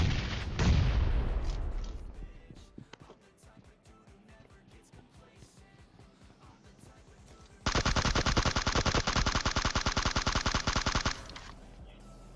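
PUBG Mobile gunfire: a loud opening burst gives way to steady, fainter automatic shots, then a dense, very loud sustained volley of rapid fire that cuts off sharply, with a faint tail afterward.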